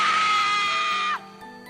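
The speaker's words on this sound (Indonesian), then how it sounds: "Ketika tiba-tiba Anes di belakangku berteriak kencang" A loud, sustained scream from a woman in a horror tale of a mountain hike on Mount Dempo holds at high pitch for over a second, then cuts off sharply, leaving a faint low tone behind.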